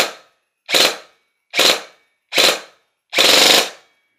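An AWS Raptor V2 airsoft gun fires four sharp, close bursts spaced evenly apart, in burst mode and then full auto, with the last burst noticeably longer than the first three.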